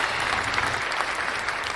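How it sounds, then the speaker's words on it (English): A crowd claps steadily, a dense patter of many hands applauding for a couple of seconds at moderate volume, with no talking. "I had to applaud you"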